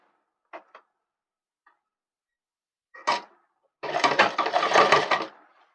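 A few faint clicks and a brief whir precede a sewing machine stitching a pant seat in one rapid, rattling run of about a second and a half, close by with no talk.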